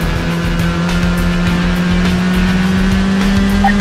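A blue BMW Z8 drives in Need for Speed Hot Pursuit 2 with a loud, sustained engine drone that holds steady tones, a faint squeal of tires near the end, and no voices.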